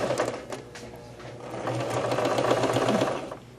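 A sewing machine back-stitching a knee blanket, a continuous close whir of needle and motor that holds steady for several seconds and then winds down, with no talking.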